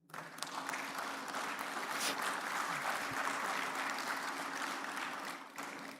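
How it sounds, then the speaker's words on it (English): Graduation ceremony audience at Lagos Business School, Pan-Atlantic University, giving a warm round of applause as a vice chancellor is introduced, steady clapping from a large crowd that fades briefly near the end. "With a warm round of applause"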